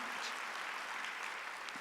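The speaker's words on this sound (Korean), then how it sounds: "박수하세요." Church congregation applauding during a Korean Sunday worship service, a brief, dense burst of clapping from many hands at steady volume.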